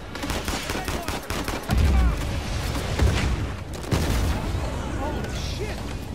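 Rapid bursts of gunfire from the video game Uncharted 4, rattling volleys and heavy booms close and loud, with a voice talking over the shooting.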